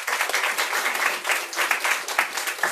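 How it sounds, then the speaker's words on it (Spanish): An audience claps in steady applause for a speaker at a panel discussion on social service abroad, a dense, continuous patter of many hands with no talk over it. "Un aplauso para ella, por favor."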